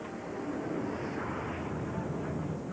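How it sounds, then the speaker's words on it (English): Jet aircraft, an F-14 Tomcat, on final approach to an aircraft carrier, heard as a steady, continuous broadband roar with wind-like rush that holds level throughout without pauses. "That's an indication we have a Tomcat on final."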